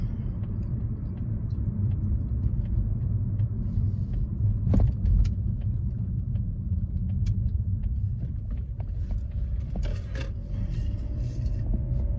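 Steady low rumble from inside a moving car, a constant road and engine drone with a few faint clicks and knocks, and no talking.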